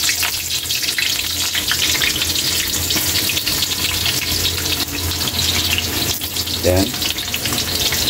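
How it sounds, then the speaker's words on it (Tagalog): White onion frying in hot oil for a tuna dish, a continuous close sizzle with faint splashy crackle underneath, while a person briefly speaks over it. "Fried lang natin ang ating white onion."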